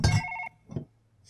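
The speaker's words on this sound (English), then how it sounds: "Shut up, phone." A telephone bell gives one short, loud ring that stops abruptly. A fainter, brief chirp of the ringer follows after a pause.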